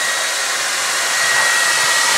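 A blow dryer drying a Poison kick drum head right after application, a loud, steady close-up hiss and whir of rushing air that holds constant throughout.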